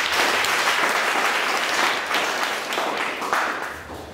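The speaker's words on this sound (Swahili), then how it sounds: "Tupigie makofi." Church congregation applauding steadily, a dense continuous wash of clapping from a full room that holds fairly even before tapering slightly at the end.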